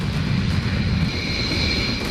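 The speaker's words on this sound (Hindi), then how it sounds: "दो रफाल फाइटर उड़ा दिए।" Two Rafale fighter jets fly over Imphal, a steady, loud low roar of jet engines with a broad rumble and a faint high whine, continuous with no speech over it.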